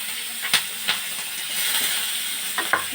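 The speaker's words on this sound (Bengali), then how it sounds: "5 ফোড়ন আর পেঁয়াজ আর কাঁচা লঙ্কা দিয়ে ভাজতে দেব" Onions and green chili fry in oil with five-spice, a quiet steady sizzle and hiss with a few soft crackles and clinks, close up and without talk.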